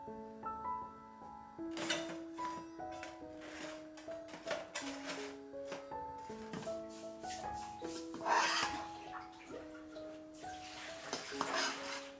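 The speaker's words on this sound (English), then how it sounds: "after sauteing added some water and stir until smooth" Tomato paste sauce stirred with added water in a pan for Turkish köfte, a steady scraping and rubbing that runs throughout beneath prominent background music.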